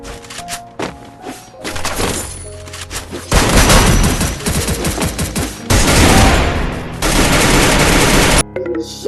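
Loud explosive blasts and rapid crackling bursts from a mobile phone exploding while charging, erupting in several waves before cutting off abruptly.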